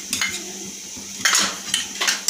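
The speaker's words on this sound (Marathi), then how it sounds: "तोही घालून आपण छान परतवून घेत आहोत" Potato manchurian with tomato sauce and vinegar is tossed in a pan: loud metallic clanks and scrapes of a spoon against the pan come in bursts over a soft background sizzle, with no voices.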